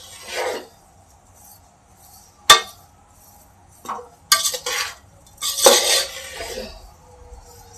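Ladoo mixture is stirred and roasted in a pan, with scattered metallic scrapes and clinks of a spoon against the pan, sharp isolated knocks between softer stirring scrapes, fairly close and without talk.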